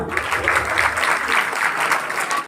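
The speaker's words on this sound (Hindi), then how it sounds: "जोरदार तालियां।" Steady audience applause at a village Guru Ravidas jagran after a children's performance, a dense continuous patter of many hands, fairly close, running evenly and ending abruptly.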